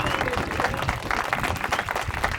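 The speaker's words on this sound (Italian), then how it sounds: "fatecelo sentire questo applauso, per cortesia!" Audience applause at an aperitivo show in Fregene, Italy, a steady wash of many hands clapping with crowd noise and a voice talking over it throughout.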